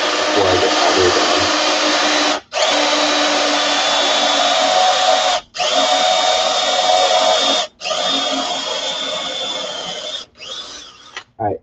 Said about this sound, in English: I'm just going to drill again halfway through before I get all the way down.